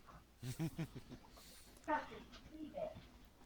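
A dog barks in a few short, moderately loud bursts near the start, with another sharp yelp a little later, heard over people talking in the background.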